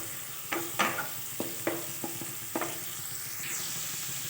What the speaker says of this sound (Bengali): কোচানো পেঁয়াজ আর কাঁচা লঙ্কাটাও আমি দিয়ে দিয়েছি, দিয়ে এটাও একটু ভেজে নেব